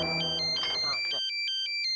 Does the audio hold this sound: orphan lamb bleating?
no